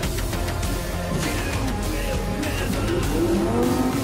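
A car in Cyberpunk 2077 drives with a loud, steady engine drone while its tires squeal in a few rising, wavering screeches near the end.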